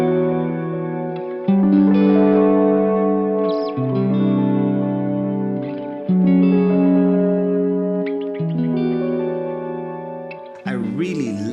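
Electric guitar chords run through a pitch shifter and dotted-eighth delay panned hard left, sustained shimmering tones with echoing repeats blending into a lush, reverb-like wash, loud and steady.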